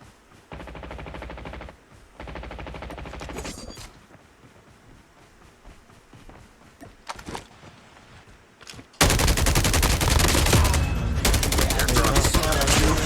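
Gunfire in Call of Duty Mobile battle royale: bursts of rapid automatic fire in short volleys, then sparse single shots, ending in a long, loud, continuous stretch of heavy firing.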